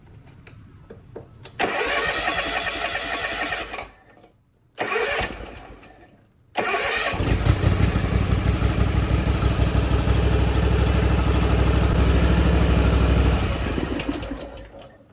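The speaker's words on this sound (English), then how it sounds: "When you do start the engine, just make sure you look for leaks down here." A Hustler Raptor XD riding mower's engine cranks over, catches with a loud roar, stalls briefly, then restarts and settles into a steady, close, continuous running drone.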